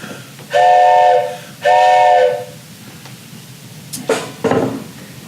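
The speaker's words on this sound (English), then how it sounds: "this, which is just a slide whistle" A slide whistle plays two long, steady, bright tones followed by two quick rising and falling swoops, loud and close with no voices over it.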